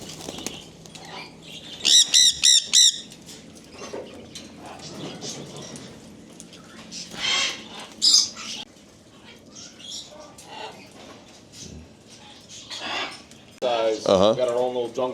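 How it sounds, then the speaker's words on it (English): Exotic birds in a bird shop's jungle room give sharp chirps and squawks in scattered bursts, some loud and near, under steady room background with people talking. "Got our own little jungle room with birds."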